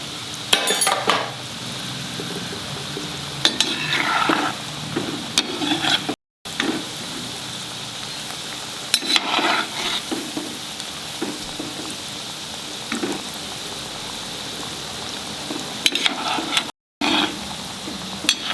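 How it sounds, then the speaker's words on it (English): Kulkuls, the Christmas sweet, frying in hot oil while being stirred, a steady soft sizzle with occasional scraping clinks of a utensil against the pan, close and continuous with brief breaks. "And keep stirring."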